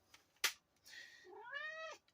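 A cat lets out a loud, drawn-out meow with a rising then falling tone, preceded by a short sharp cry, close to the microphone in a quiet room.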